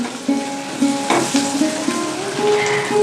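Vegetables seasoned with salt, turmeric and sugar sizzle loudly in a pan with no added water, while a spoon stirs them in a few quick scrapes and taps.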